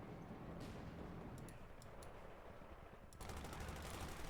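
Machine gun fire in the World War II strategy game Company of Heroes 2: quiet, distant rattling bursts, a short volley in the middle and a longer, denser burst near the end, over a constant battlefield rumble.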